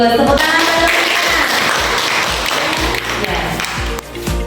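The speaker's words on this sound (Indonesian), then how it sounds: "Bagus, tepuk tangan teman-teman" Classmates in a classroom clap their hands in loud, rapid, steady applause that carries on throughout, with a few sharper claps standing out near the end.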